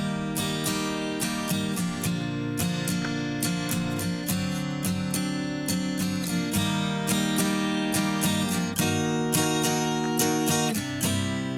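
Acoustic guitar strummed in a produced rock mix, processed with Fairchild parallel compression, dense steady chords with sharp rhythmic attacks, full and loud, no voices.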